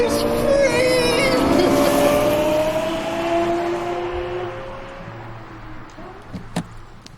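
A Lexus LFA's V10 engine revs hard with rising, howling pitch sweeps through quick upshifts, then backs off and fades to a quieter idle with a few small clicks.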